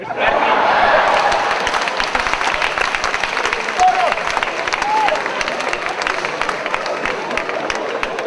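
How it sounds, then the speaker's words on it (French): A live French-speaking audience applauds in sustained, dense clapping with crowd noise, loudest at the start and holding steady throughout, during a tribute performance. "Il s'appelle Polo, on applaudit encore une fois pour lui."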